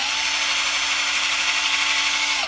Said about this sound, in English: So I hold it down there and drill right out through the front.